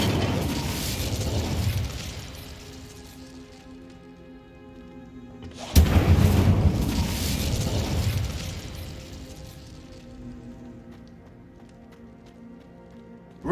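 A fiery Incendio spell blast in Hogwarts Legacy erupts suddenly as a sharp, loud boom, then rumbles and crackles away over several seconds amid a steady wash of game ambience.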